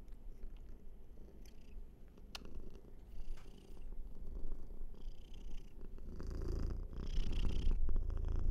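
A big fluffy male cat purrs steadily up close, a low continuous rumbling that swells louder toward the end, with no voices over it.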